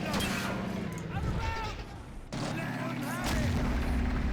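A tank cannon fires in the Men of War: Assault Squad 2 battle game, heavy booming blasts with rumbling engine and battle noise behind, loud and close.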